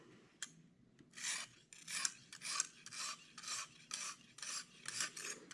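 A Grohmann knife blade is sharpened on a Lansky guided-rod sharpening system, giving about ten steady rasping strokes in an even back-and-forth rhythm, close and clear, with no talking.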